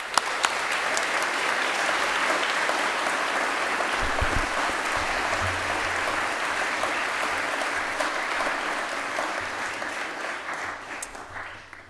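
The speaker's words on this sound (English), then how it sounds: "I would also like you to give a round of applause and thank you to the passionate instructors" An audience at a school chapel awards service applauding students and instructors, dense sustained clapping filling the room for about twelve seconds before thinning out at the end.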